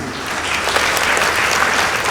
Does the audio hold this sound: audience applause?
yes